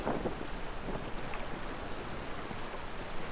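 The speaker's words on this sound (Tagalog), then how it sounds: "Malakas pa rin kasi ang agos ng ilog kahit na maganda ang panahon." A strong river current rushes steadily as teachers wade across a shallow river in San Pedro, a dense broadband wash with wind buffeting the microphone throughout and no voices.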